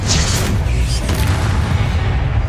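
A Confringo spell erupts in a Hogwarts Legacy battle with a heavy, close boom and a bright crackling burst, then a low rumbling tail that keeps rolling for a couple of seconds.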